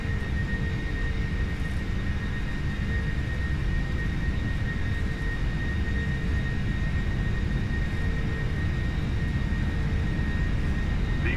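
Boeing 747-400 jet engines at takeoff thrust in a Prepar3D flight simulator, a steady loud roar with a high whine held throughout the takeoff roll.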